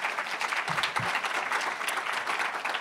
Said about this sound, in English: Thank you for joining me and giving them another round of applause.